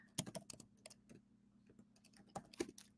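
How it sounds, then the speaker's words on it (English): Quiet, irregular clicking of keys on a computer keyboard, bursts of taps with short pauses, close by and without speech. "Hold on, I'm typing it in, y'all."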